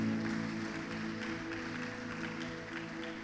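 At a Wednesday evening church service, the congregation claps steadily and evenly at moderate distance while sustained instrumental tones hum underneath.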